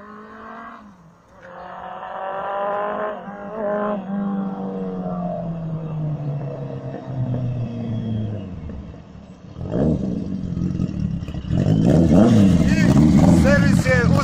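A serviced Yamaha motorcycle engine at a motorbike shop, rising and falling revs with a growling rumble, strongest toward the end, while people talk nearby.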